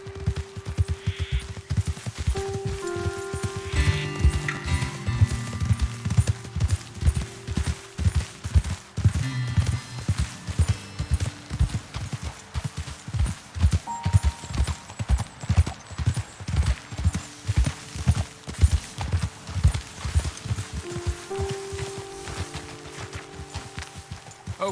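Horses trotting in the Red Dead Redemption 2 video game, a steady, close clip-clop of hooves throughout, with occasional neighs and faint game background sounds.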